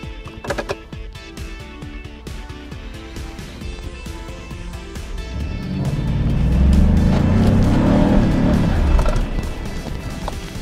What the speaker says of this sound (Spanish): Voy a acelerar la camioneta para que vean ustedes qué pasa